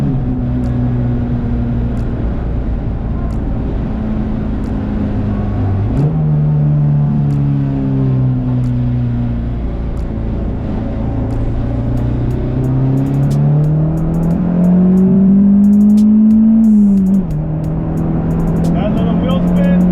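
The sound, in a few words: car accelerating hard with wheel spin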